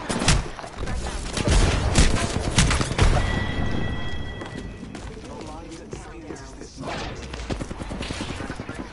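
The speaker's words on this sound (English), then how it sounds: "I'm getting shot at again" Rapid bursts of gunfire crackle in a PS4 shooter, dense volleys that are loudest early and then thin into scattered shots beneath chaotic in-game effects, with a voice speaking over parts of it.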